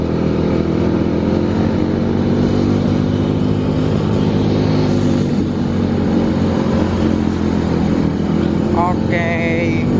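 A Vespa scooter climbs slowly up a village hill road, its engine droning loudly and steadily up close amid wind rush, with a muffled voice now and then.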